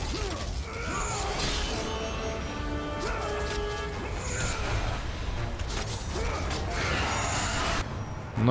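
A heavy door mechanism in God of War: Chains of Olympus grinds and creaks open with ratcheting, clanking layers and crashes mixed into game music, continuous and loud throughout.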